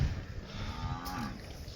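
A cow moos once in a long, drawn-out low call, fairly close and on its own amid quiet outdoor ambience while cattle are out grazing.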